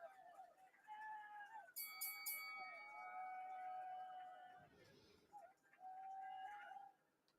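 Bright ringing tones with sustained overtones sound repeatedly, like a bell chiming, with a brief muffled rustle in the middle; fairly quiet overall.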